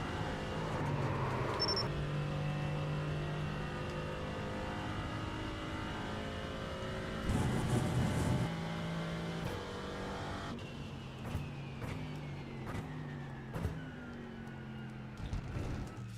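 A GT4 race car in the iRacing sim drives on, its engine revving and holding steady tones close by, with gear changes, shifting pitch and a few sharp bumps along the way.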